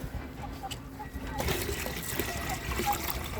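Water is poured out in a chicken-keeping setting, starting partway through as a continuous splashing trickle, close and moderately loud, with faint clucking-like sounds nearby.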